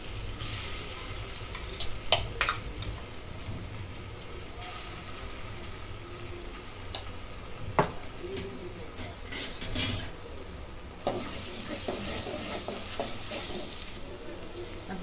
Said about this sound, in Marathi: याच्यात घरचा कांदा लसूण मसाला टाकून घेते मसाला चांगला भाजून घेते